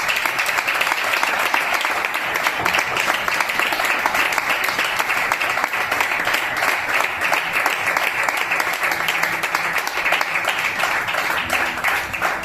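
Sustained applause from a large church congregation, dense and steady clapping that continues without a break throughout.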